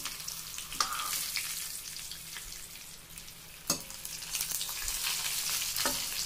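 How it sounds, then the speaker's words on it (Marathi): Stuffed chillies fry in a pan with a steady, close sizzle, broken by a few sharp scraping clicks as they are stirred. "त्याला उभं नॉर्मली असं हलवायचं आहे, कारण त्यातला मसाला निघला नाही पाहिजे।"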